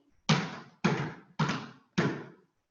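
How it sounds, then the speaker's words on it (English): Four thudding foot taps on a floor, evenly spaced and close, each a dull low knock with a brief decay, alone without talking. "And 4 taps with your feet"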